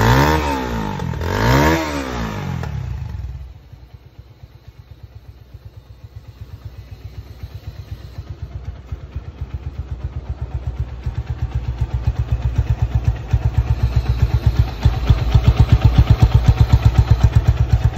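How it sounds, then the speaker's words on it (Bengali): Runner Bolt motorcycle fitted with a modified exhaust, loud revs rising and falling in the first seconds, then settling into a fast, throbbing idle that grows gradually louder and stays steady to the end, with no talk. "এই বাইকটার এক্সস্ট মডিফাই করে দিছি, তো আশা করি সাউন্ডটাও আপনাদের ভালো লাগবে।"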